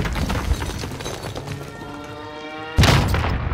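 Frag grenade exploding in Call of Duty: Modern Warfare, a sudden loud blast landing late in the moment over ongoing game noise and gunfire.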